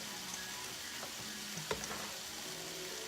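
Chicken frying in a pan, stirred briefly: a soft, steady sizzle with one quick scrape of the utensil midway, fairly quiet and close, with no talk.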